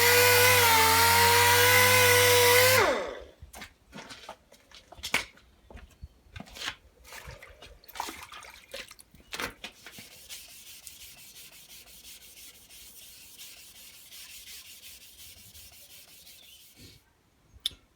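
Hand sanding works paint on a panel in irregular rubbing and scraping strokes, near and fairly quiet, after a few seconds of loud power-tool whine at the start.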